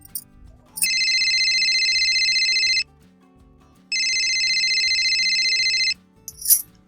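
A mobile phone ringtone sounds in two long electronic bursts of about two seconds each, separated by a pause, loud and close, with faint low background sounds underneath.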